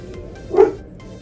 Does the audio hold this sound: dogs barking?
yes